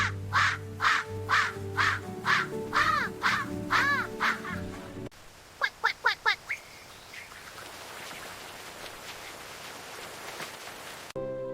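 Ducks in a village quack loudly and close by in a regular string of about ten calls, then a quicker cluster of five sharp quacks, followed by quieter outdoor ambience.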